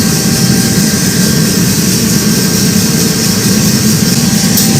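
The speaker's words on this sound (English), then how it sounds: "It's blowing cold air right now." A coffee roaster's cooling fan blows air in a constant, steady whoosh with a low engine-like hum and faint tonal whine, close and unbroken, with no talk.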